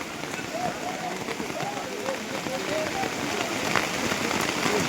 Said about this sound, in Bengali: মাঠে বৃষ্টি হচ্ছে, তুখর বৃষ্টি হচ্ছে